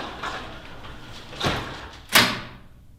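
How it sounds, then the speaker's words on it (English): A LiftMaster 8500w wall-mount garage door opener engaging its bolt lock, heard as a soft clunk followed by a sharper, louder metallic clack against a low mechanical hum. "And that was the bolt lock you heard."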